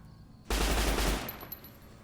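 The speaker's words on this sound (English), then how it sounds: "Let's try the submachine gun out" A submachine gun in Fallout: New Vegas lets off a single dense burst of rapid automatic fire lasting under a second, loud and close, then tails off into faint ambience with a couple of small metallic clicks.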